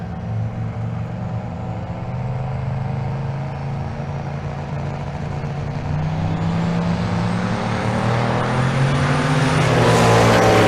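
A Buick T-Type Regal and a Cadillac Escalade drag race at Bandimere, their engines droning low and rising steadily in pitch and loudness as they build speed, closest and loudest at the end.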